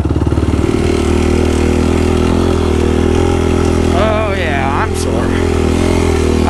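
A 2020 Yamaha YFZ450R SE quad engine drones loudly and steadily while riding on the Little Sahara sand dunes, with a constant close-up engine hum throughout and a person talking over it partway through.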